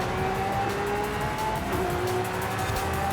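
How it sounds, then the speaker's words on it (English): A Lamborghini Centenario engine roars steadily while driving in Forza Horizon 5, a continuous loud drone with tire noise and no pauses. "This time we're in a Lamborghini Centrino"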